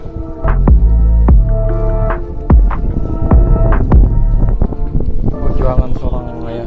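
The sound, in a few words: fishing boat engine running at sea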